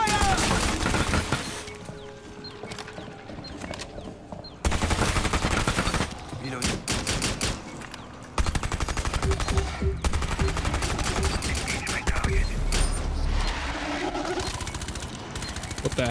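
Sustained automatic gunfire in the video game Rainbow Six Extraction, long loud bursts and fusillades with brief gaps and crashing impacts, close and dense, with game voices mixed in.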